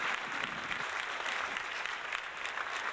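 Applause sound effect, a steady even wash of many hands clapping at moderate level, unbroken for the whole stretch.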